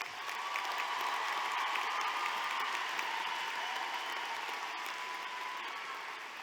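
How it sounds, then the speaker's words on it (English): Sustained applause from a large audience honoring honor graduates at a 2023 high school graduation ceremony, a steady, dense wash of clapping that holds evenly throughout without any voices. "Please give a round of applause to our honor graduates."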